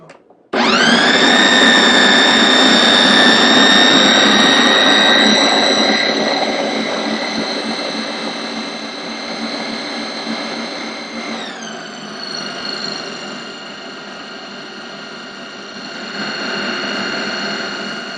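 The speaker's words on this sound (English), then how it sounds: "So we'll mix it again for just a couple of minutes to make sure everything's fully incorporated." A food processor churns almond butter with a loud, steady electric motor whine that starts abruptly, drops in pitch partway through as the load shifts, and keeps running for a long stretch without talk.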